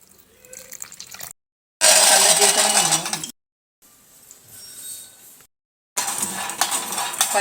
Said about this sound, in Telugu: పల్లీలు వేయించుతున్నాము.